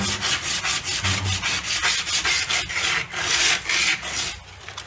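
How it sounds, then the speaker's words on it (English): Fine emery cloth scrubs rust off the metal guide of a sawmill file guide, producing rapid back-and-forth rasping strokes in a steady rhythm, close and fairly loud. "I've got some really fine emery cloth here. I'm just going to try to"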